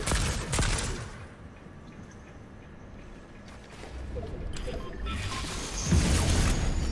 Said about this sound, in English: somebody sniped the fuck out of me